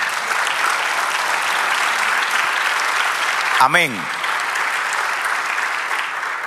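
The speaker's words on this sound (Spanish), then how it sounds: "Denle un aplauso al Señor." A church congregation claps loudly and continuously, a dense even roar of applause filling the whole stretch, with a brief spoken word cutting through midway.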